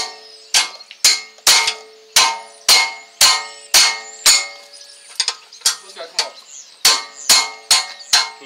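Sharp metallic strikes ring out in a steady series, loud and close, as the rear brake caliper mount bracket comes off a 2015 Acura TLX.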